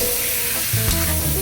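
Meat sautés with garlic in a hot pan, a loud, close, steady sizzle with stirring scrapes and a brief shuffle partway through, no voices.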